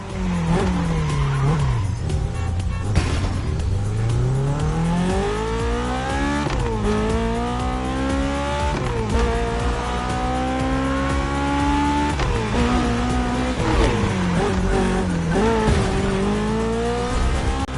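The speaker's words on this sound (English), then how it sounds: "Drifting is the best way to take sharp turns without losing speed" A car drifting through winding Hawaiian mountain roads in The Crew Motorfest, its engine revving loudly and rising through gear shifts with squealing tires as it slides through sharp turns, close and continuous with no talk.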